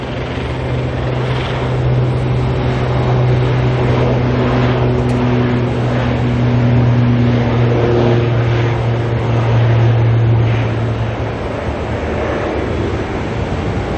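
An ATR turboprop taxiing at Auckland Airport gives off a loud, steady propeller drone with strong low humming tones that hold for about eleven seconds before easing off.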